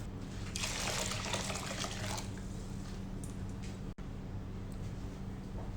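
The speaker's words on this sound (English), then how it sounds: "I'm going to add about 8 cups of water." Water poured into a pot of soaked rice, about three cups of grain with roughly eight cups of water added, a bright splashing rush for a couple of seconds that settles into a quieter trickle and background hum.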